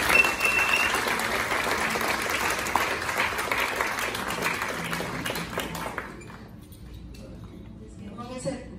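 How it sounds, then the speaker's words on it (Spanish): Sustained applause from a crowd fills most of the clip, then dies away, leaving a few scattered sounds. "denle un fuerte aplauso una vez más"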